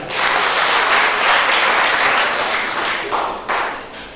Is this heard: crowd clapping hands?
yes